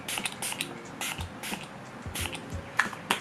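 Short pumped bursts of Catrice Prime and Fine Multitalent fixing spray mist over a made-up face, several quick close sprays in an irregular rhythm.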